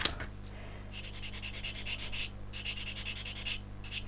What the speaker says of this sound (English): There we go, that's it, sanded and smooth.